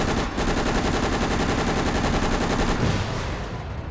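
Rapid, continuous 9mm automatic gunfire rattles loud and close throughout in Resident Evil: Operation Raccoon City, tapering off slightly at the end.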